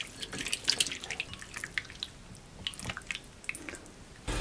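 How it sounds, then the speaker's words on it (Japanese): Raw shrimp, first rubbed with salt and potato starch, are rinsed by hand in plenty of water at a kitchen sink, making soft, close splashing, dripping and small squelching sounds at low volume, with no talking. "そしたらたっぷりの水で洗いますよ。"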